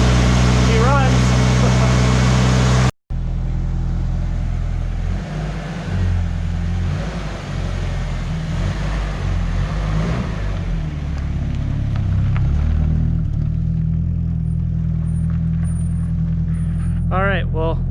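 A Toyota AE71 engine turns over and keeps running at a steady idle, a low continuous rumble close by after a brief silence, with people speaking briefly at the start and end.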